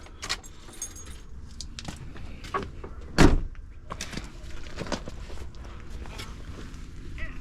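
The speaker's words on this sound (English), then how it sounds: "So I'm gonna go ahead and turn this key off." Keys jangle near the ignition of a 6.0 Powerstroke diesel truck, with a sharp click as the key turns off midway and light shuffling and footsteps around it.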